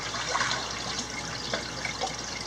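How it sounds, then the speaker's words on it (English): Remineralized water pours into a small bucket for a shrimp tank water change, a close, soft, continuous splashing and trickling. "now I'm just gonna add water to the bucket, to the little bucket"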